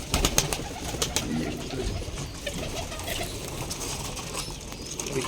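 Several pigeons coo in a pigeon loft in low, burbling tones amid sharp clicks and rustles, with occasional wing flutters in the background.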